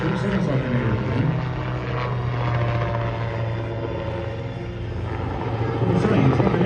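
An autogyro flies past at an airshow, its steady rotor and propeller drone loud and close throughout, swelling slightly near the end, with crowd chatter and talk underneath.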